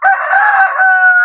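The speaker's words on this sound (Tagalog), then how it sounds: "Ito yung tandang na ginagamit ko ito." A rooster crows once, loud and close, in a single sustained call lasting just over a second.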